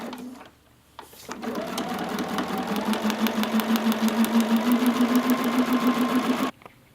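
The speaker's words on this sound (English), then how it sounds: "we're going to sew on the line between 2A and 3A" A sewing machine stitches a foundation paper piecing seam, starting after a brief pause and running at a steady, rapid mechanical pulse that climbs slightly in speed before stopping abruptly, close and clear.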